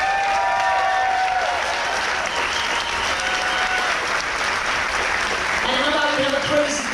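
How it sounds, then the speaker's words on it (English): A cruise ship audience aboard the Carnival Splendor applauds steadily for several seconds, a dense sustained wash of clapping with crowd noise and faint voices mixed in. "give these guys and girls a huge round of applause"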